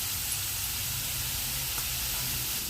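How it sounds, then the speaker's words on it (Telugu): Grated carrot halwa simmering on a low flame, a steady soft hiss and gentle bubbling held at an even level throughout, then cutting off abruptly at the end. "కొద్దిసేపు సన్న మంట మీద ఉడకనిద్దాం"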